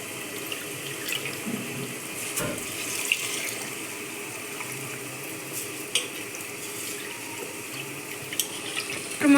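Water runs steadily into a pot for cooking rice, two glasses of water to one of rice, a continuous close splashing stream with occasional small clinks.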